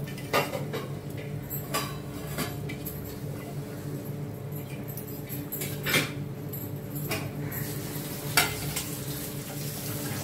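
Rice in a cooking pot of boiling water is stirred, with occasional scrapes and light metallic clinks from the utensil over a steady bubbling hiss and no voices.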